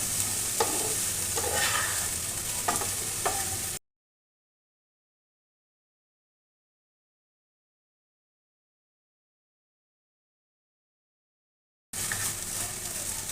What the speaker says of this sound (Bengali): লো ফ্লেমে রেখেই কিন্তু আমি পুরো রান্নাটা করে নিচ্ছি বন্ধুরা